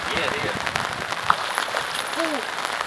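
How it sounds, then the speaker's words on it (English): Heavy rain pours down on a Tennessee River fishing trip, a dense patter of drops drumming steadily on surfaces, with muffled voices talking under it. "Right in the middle of the pouring down rain. It's the hardest rain on us this morning"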